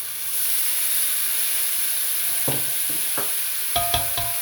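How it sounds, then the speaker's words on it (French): Carrots, onions and beef browning in a pot for a Bocuse-style bourguignon give a steady close sizzle, broken by a few sharp stirring scrapes and clinks toward the end. "une fois qu'on a fait revenir les carottes et les oignons, on remet la viande"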